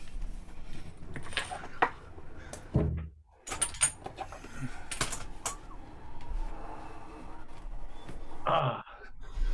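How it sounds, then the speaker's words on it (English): A door opened indoors: several close knocks, clunks and rattles from the handle and frame, with a louder thud near the end, over a low room background. "I'm gonna pop this door back here"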